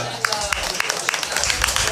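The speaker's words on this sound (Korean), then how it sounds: "맞서 싸운 버스에게 한 번 더 큰 박수 부탁드립니다" Crowd applause at a Korean rap battle tournament quarterfinal, a dense stream of claps with distinct sharp hand slaps popping out in an irregular rhythm, fairly close and steady throughout.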